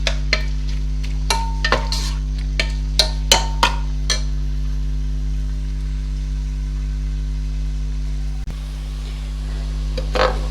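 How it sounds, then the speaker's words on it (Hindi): Onions frying in a pan over high heat for a minced meat, spinach and fenugreek dish, with a run of sharp stirring clacks early on over a steady low sizzle and constant hum. "तेज़ आंच में आप इसे फ्राई कर लें।"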